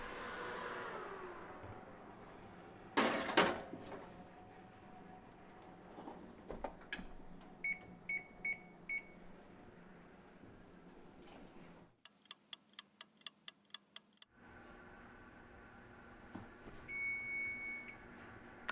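A kitchen oven timer ticks and then sends out short repeated beeps in separate bursts, with quiet kitchen background sound and a few knocks in between.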